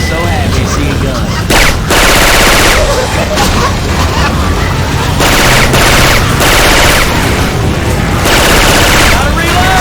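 Syphon Filter gun sound effects swapped into Left 4 Dead 2 fire in dense, loud bursts, with rapid automatic shots and heavy booms overlapping almost without pause. Characters talk and shout over the shooting.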